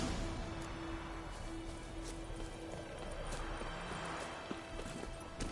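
Horses' hooves clip-clop in a PS4 video game, a continuous rhythmic trotting over a busy background ambience, with faint traces of a voice.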